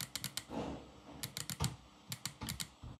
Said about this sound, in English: press the top LB and RB buttons, and by the way, I just love how nice and clicky these now are on the Ally X